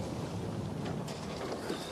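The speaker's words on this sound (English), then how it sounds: "Sir, these waves are as tall as mountains." Storm waves surge and wash around a sailing ship in a tempest, a steady broadband roar of water and wind at moderate level with no voices.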